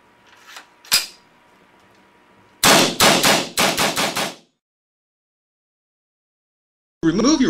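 A paintball marker fed from a Scarab Arms compressed-air tank fires a rapid string of about six sharp, loud cracks, preceded by a couple of fainter clicks, then a gap of silence before a voice begins.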